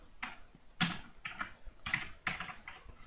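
Keyboard keys clatter in quick irregular bursts during an auction, several separate flurries of typing with short pauses between them, close and moderately quiet with no voices.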